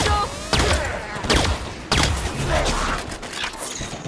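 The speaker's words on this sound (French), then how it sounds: "La tourelle me tire dessus!" A turret fires at the player in the Halo 5 video game, giving loud bursts of sci-fi gunfire with sharp blasts and whooshing, sweeping tones that rise and fall over a constant noisy battle bed.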